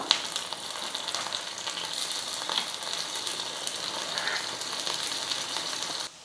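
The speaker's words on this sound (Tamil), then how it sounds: "ஸ்டவ் வந்து குறைச்சி வச்சுட்டு மூடி போட்டு மூடிடலாம் நல்லா வேகட்டும்" Paniyaram made from millet rice fries in a covered pan over a lowered flame, giving a steady, close sizzle throughout with no talking.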